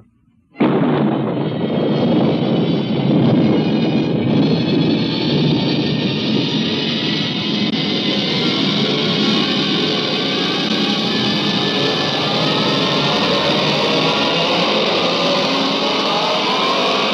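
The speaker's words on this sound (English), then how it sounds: "Countdown for blastoff." Rocket blastoff effect from a 1957 science-fiction radio drama: a sudden loud roaring ignition that swells into a long, sustained, thundering rumble with no voices.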